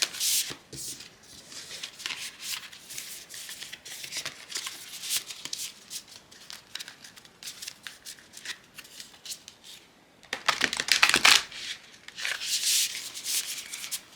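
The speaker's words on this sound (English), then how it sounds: "This is a new deck for me. So I'm going to shuffle a few times." A new deck of tarot cards is shuffled by hand in repeated bursts of riffling and sliding, with quiet pauses between them and a louder flurry near the end.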